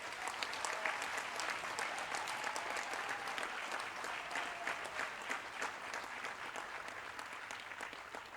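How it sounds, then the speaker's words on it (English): An audience at a human rights graduation ceremony gives the graduates a sustained round of applause, dense steady clapping from a large crowd throughout. "may we once again give our graduates a warm round of applause for their achievements"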